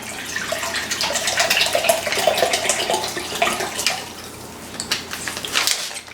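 Water runs and splashes steadily into a container for a vinegar canning brine, a continuous close pour with slight variations and no talk.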